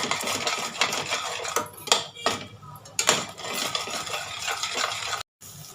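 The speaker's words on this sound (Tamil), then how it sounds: "இப்போ இந்த முட்டையோட இந்த மசாலாவை நல்லா மிக்ஸ் பண்ணி ஒரு முட்டை பொடிமா செய்வோம்" A spoon scrapes and clanks against a pan while egg is mixed with masala for egg podimas, a series of close metallic stirring scrapes and knocks with brief pauses and no talking.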